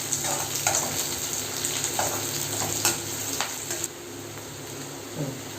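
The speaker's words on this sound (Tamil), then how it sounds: "சேர்த்து இன்னும் கொஞ்சம் நேரம் வதங்கட்டும்" Onions and curry leaves sauté in a pan for an egg curry, a close steady sizzle broken by several scraping strokes of a spoon, easing to a quieter hiss near the end.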